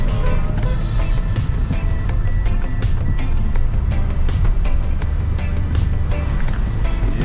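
Torrential storm rain in the Cayman Islands pours onto a flooded road, a loud, unbroken roar of water with sharp repeated splashes or gusts cutting through the steady rush.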